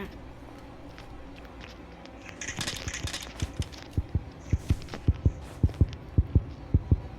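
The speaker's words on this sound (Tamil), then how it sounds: "teddy bear எடுத்துட்டேன்னா heart beat sound கேட்கும்" A heartbeat thumps in a regular double-beat rhythm, growing louder and more distinct over a low hum, with a brief burst of noise before it, in the video game Granny 3 after picking up a teddy bear.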